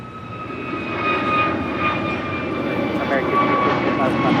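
Boeing 747-8 taking off from runway 25 left at LAX, a steady, loud jet roar with a sustained high whine, heard from the airport's south side.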